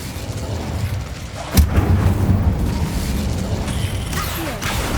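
An Incendio fire spell bursts in Hogwarts Legacy, a sudden booming whoosh of flame about a third of the way in, followed by a sustained roar and crackle over a dense game-world background.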